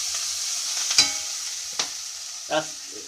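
Sausages fry and sizzle in a pan with a steady crackling hiss, and a few sharper spatters and stirring clatters sound close by.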